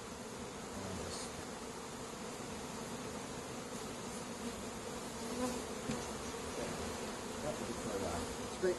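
Honey bees buzz steadily and close around a hive frame during a summer hive inspection, a dense continuous drone that holds throughout with faint handling noises.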